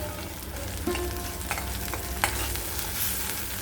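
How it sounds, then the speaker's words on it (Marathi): Chilli, cumin and coriander powders sauté in oil for a spicy pea keema, a dense, continuous close sizzle with light stirring scrapes and a couple of soft clinks. "हे मसाले मी परतून घेते चांगले"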